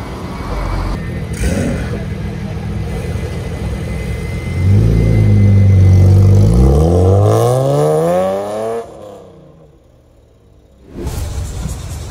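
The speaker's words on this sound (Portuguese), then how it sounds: "Motor V12, é maravilhoso, não tem nada mais perfeito do que esse carro." A Lamborghini V12 engine revs hard and close, rising in pitch through a long loud sweep before cutting off abruptly, then a brief low rumble returns at the end.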